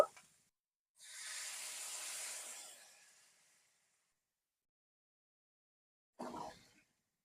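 Water poured into a pan of fried winter vegetables gives a soft burst of hissing steam that lasts about two seconds and then fades, followed later by a brief clatter, heard faintly and without talk.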